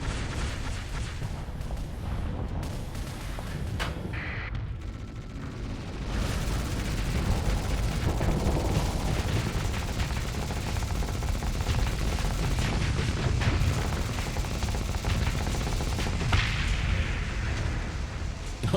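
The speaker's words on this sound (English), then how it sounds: "All those missiles just instantly changing target." Missiles launching and bursting in a space-combat video game, a dense, continuous barrage of blasts and rumbling detonations that swells louder after a brief dip and keeps pounding without pause.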